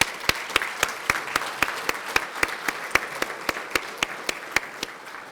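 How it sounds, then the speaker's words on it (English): A banquet audience gives a round of applause for Kenneth Ferguson at a school academic excellence event, producing a steady wash of clapping with sharp, evenly spaced louder claps standing out throughout. "Please join me in a round of applause for Mr."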